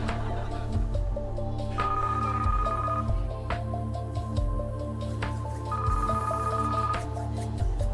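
A telephone rings on the set of the Deal or No Deal game show in repeated electronic ring bursts, set against a steady hum and studio background, with no speech.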